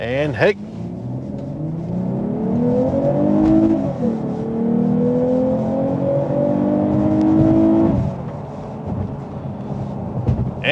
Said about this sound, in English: the engine noise you're hearing is a combination of the engine itself and the exhaust